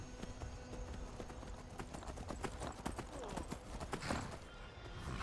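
Horses walking in Skyrim, a steady run of hoof clip-clops on hard ground, close and fairly loud, with a faint whinny-like sound near the end.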